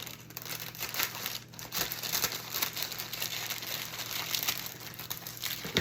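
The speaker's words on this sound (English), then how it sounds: "It's just a regular cellophane bag." A large regular cellophane bag, not shrink wrap, is cut and handled up close, giving a continuous crinkling and rustling with occasional tearing edges and no voices.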